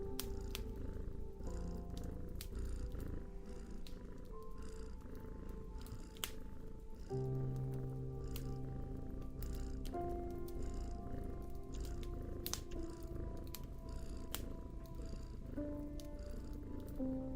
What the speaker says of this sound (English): I'm gonna turn the purring off.